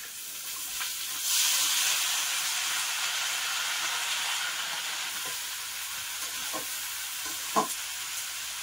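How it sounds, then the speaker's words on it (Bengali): Chopped bottle gourd hits hot oil in a wok, setting off a sudden loud hissing sizzle that settles into steady frying with occasional scraping stirs and a sharp clack near the end. "এবারে কেটে রাখা লাউ দেব।"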